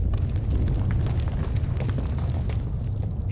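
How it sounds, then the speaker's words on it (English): A rumbling planetary core explosion in a Star Wars video game, heard as a dense, sustained low roar with crackling debris over about three seconds, steady and loud throughout, with no voices. "the explosion triggered a chain reaction in the planet's core."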